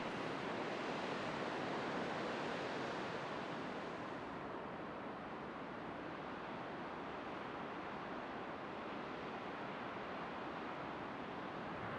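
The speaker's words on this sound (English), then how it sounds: "There's still lots of water coming over the falls" Water pours over a waterfall beside Canada's Trans Labrador Highway, a broad, constant roar with no breaks and some wind buffeting the microphone, heard from a distance.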